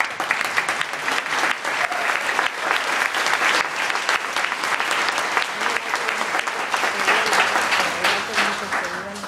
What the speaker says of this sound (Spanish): Aplausos de vuelta.